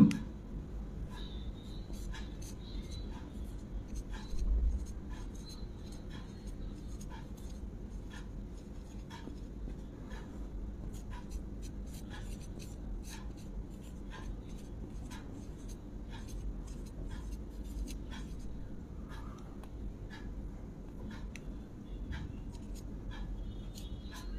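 Quick scratchy strokes as electron configurations are written by hand on a board, a steady run of short ticks and scrapes over low room hum, faint and continuous.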